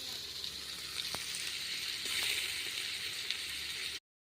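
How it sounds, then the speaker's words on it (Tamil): Onions sizzle and fry in hot ghee for a tomato rice dish, a steady close crackling hiss with a few sharper pops and no talking. "வெங்காயம் நல்லா சூப்பராக வதங்கிடுச்சு பாருங்கள் நெய் வாசனை நல்லா கும்முன்னு தூக்குது"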